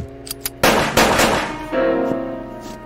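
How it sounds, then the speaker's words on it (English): Gunshots from a .45 caliber automatic pistol in a radio drama: a few loud, sharp cracks about a second apart, each trailing into a reverberant decay, with no voices. "I fired right at you."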